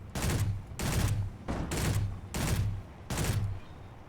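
Point defense cannons fire in the sci-fi space game Conflict Europa as five loud, evenly spaced bursts of rapid automatic fire, each lasting about half a second and separated by short gaps, with no talk.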